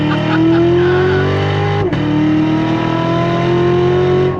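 A loud, close Chevy C7 Corvette Lingenfelter Z06 engine roars steadily under heavy throttle, its pitch climbing, dipping briefly as a gear changes, then climbing again.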